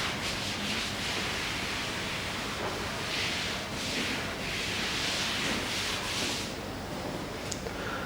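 Chalk writing is rubbed off a board with steady, repeated scrubbing strokes, a soft broadband swish rising and falling in rhythm. It runs close and continuous, with no talking.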